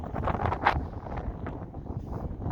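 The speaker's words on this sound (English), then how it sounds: "Look at the dust, the wind that's blowing." Gusty wind buffeting the microphone outdoors as a rainstorm approaches, kicking up dust; a rough, fluctuating rush with a stronger gust near the start and no talking.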